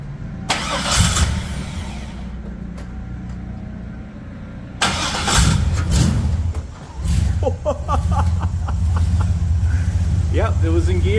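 A car engine starts and runs as the car is pulled out, with bursts of revving and an uneven idle while people talk over it.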